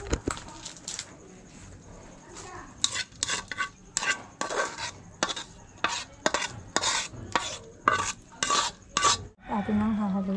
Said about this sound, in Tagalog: Atin nang hahaluin lang ito.